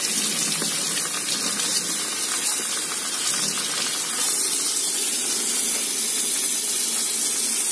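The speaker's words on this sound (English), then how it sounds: "some water on the rice paper." Water runs steadily onto rice paper, a continuous bright hissing splash with no breaks, fairly close and alone.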